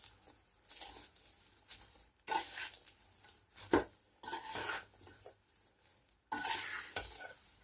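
Seeds, makhana (fox nuts) and edible gum stirred together in a bowl for moong dal panjiri, an irregular close scraping and rustling in uneven bursts of granular patter and light clinks, quiet with no speech.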